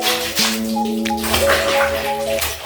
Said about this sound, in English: I want to quickly wash these clothes out of water.